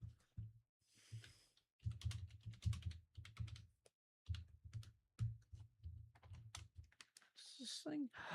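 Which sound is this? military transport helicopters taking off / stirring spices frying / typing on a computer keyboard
typing on a computer keyboard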